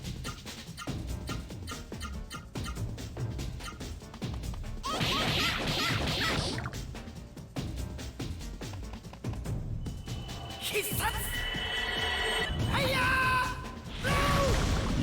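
Fire Blow attack from Legend of Legaia, a PlayStation role-playing game: a string of loud crashing, thwacking hits and mechanical clanks with bright metallic ringing tones near the end, dense and continuous with no talking.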